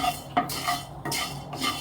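Cumin and coriander seeds are stirred in a hot, dry kadai, giving a few close, rhythmic scraping strokes with a light rattle of seeds against the metal. No one speaks.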